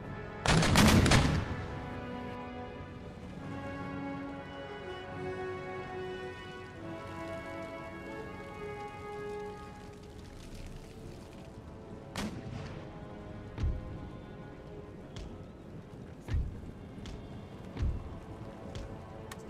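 Gunfire from the video game Empire Total War: a loud cannon-like volley bursts at the start, then scattered sharp musket shots crack over a sustained rumbling battle din.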